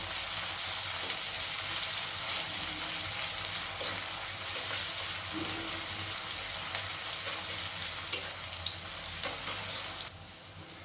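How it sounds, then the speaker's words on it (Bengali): Finely chopped onion fries in a pan for soybean bharta, a steady close sizzle running throughout with a few light stirring clicks, and no voices. "পেঁয়াজটাকে খুব ভালো করে লাল করে ভেজে নেব"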